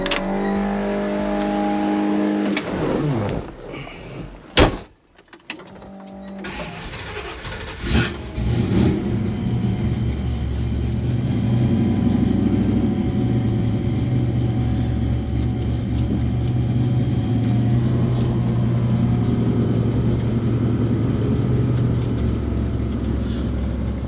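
A Ford F-100 Unibody truck sets off on a drive, its engine idling then revving with a thump of movement, settling into a steady, loud, close engine drone with road noise.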